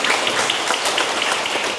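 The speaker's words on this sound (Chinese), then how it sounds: "我们拍手归荣耀给神。" A church congregation claps their hands together in steady, dense applause after a prayer during a Sunday service, a broad continuous patter that holds at an even level from start to finish.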